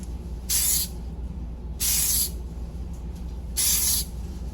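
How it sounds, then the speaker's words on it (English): Three short bursts of gold glitter spray hissing from a can onto brown vegan stamped sugar cookies in a home kitchen, each spray lasting about a third of a second, evenly spaced, close and fairly loud over a quiet room hum. "now we're going to try and spray some of these cookies without spraying everything else in the kitchen"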